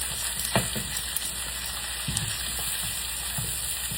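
Cut-up squash frying with onions in a pan, a steady soft sizzle throughout with a few brief clatters and stirring scrapes, close and moderately loud.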